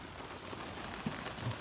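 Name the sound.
heavy rain falling outside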